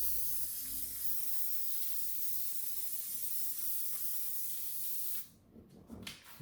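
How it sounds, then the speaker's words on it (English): Spray adhesive from an aerosol can hissing steadily onto the back of watercolor paper, a close continuous spray for about five seconds before stopping, followed by faint handling sounds. "I got just some spray adhesive. And I am just going to spray"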